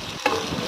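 Boiled cluster beans drop into hot oil with tomatoes, setting off a brief sizzle and stir that settles into a steady frying hiss, heard close and alone.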